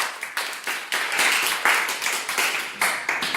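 Applause at a children's drawing contest in a hotel, a loud, close burst of scattered handclaps in uneven rhythm that carries on steadily without speech.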